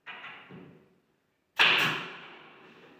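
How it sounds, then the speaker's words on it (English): A pneumatic nail gun firing into wardrobe panels during a built-in wardrobe build, with one sharp, loud near shot after a short softer burst and a quiet gap, its ringing knock trailing off. "I wonder what it would all be like if I didn't have this nail gun"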